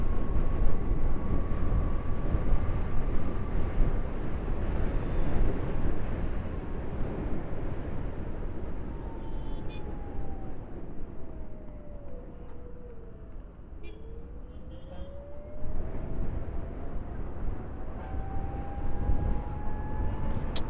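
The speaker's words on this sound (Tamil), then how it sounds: "நல்லாவே தான் காற்றடிக்குது." Strong wind roars over a rider on a Bajaj Chetak 2901 electric scooter cruising near its 60 km/h top speed, a broad steady rush that dips briefly midway, with a faint whine rising and falling underneath.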